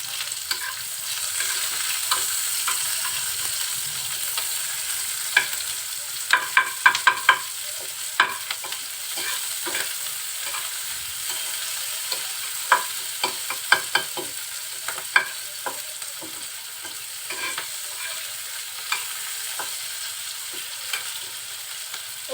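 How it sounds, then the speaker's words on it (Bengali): Chopped onion and green chili fry in a pan with leftover egg oil, for a simple sautéed greens dish. A steady, moderate sizzle runs throughout, broken by repeated scraping clicks of stirring, with no talking. "এখন দিয়ে দিব পেঁয়াজ কুচি কাঁচা ঝাল"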